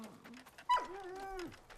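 A small dog whimpers and whines in a farm setting near a barn, a series of rising and falling high-pitched cries with one sharp yelp, close and fairly quiet, with no talking.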